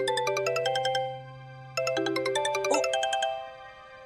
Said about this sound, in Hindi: सोसाइटी के मित्र मंडल का फोन बज रहा है